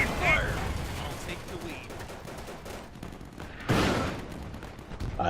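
Tank gunfire in the WWII video game Easy Red 2, loud rapid bursts and rattling shots mixed with heavier booms, close and continuous, with talking over parts of it.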